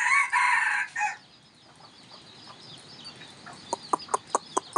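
Free-range village chickens: a rooster crows loudly up close at the start, then quieter background clucking follows and a run of sharp, evenly spaced clucks or calls closes it, with no talking.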